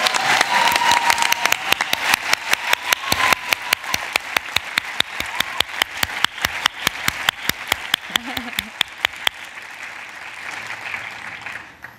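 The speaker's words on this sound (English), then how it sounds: "Applause for our entrepreneurs and respondents." A conference audience applauds entrepreneurs and respondents at a morning gathering session, a dense burst of clapping that thins over about ten seconds into a few scattered claps before fading out.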